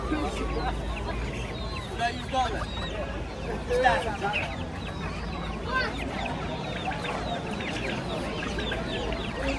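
Chickens cluck and chicks peep amid a busy crowd at the Kokand bird market, with people talking nearby and a constant low background hum.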